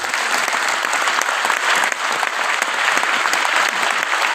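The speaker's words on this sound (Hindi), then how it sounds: "उस सभी के लिए जोरदार तालियां होना चाहिए" Loud, dense applause from a seminar audience fills the hall steadily without pause, a thick wash of many hands clapping at once.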